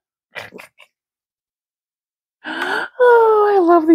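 Dogs make short sniffing, snorting bursts followed by a longer whiny vocal sound, close and fairly loud, with silent gaps between.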